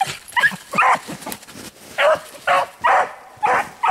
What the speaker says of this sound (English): Reckon's and Molly, they're both doing good, barking about the same amount.